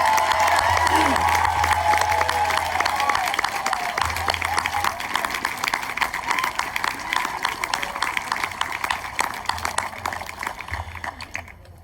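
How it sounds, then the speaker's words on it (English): Graduation ceremony crowd applauding and cheering for 2020 graduates, sustained clapping with whoops that gradually fades over about twelve seconds. "Let's have one big round of applause for all of the 2020 graduates."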